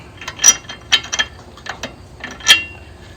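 A 1/2 inch 20 tap cutting threads in a Mahindra tractor part, giving close, irregular metallic clicks and ratcheting bursts with short pauses between turns.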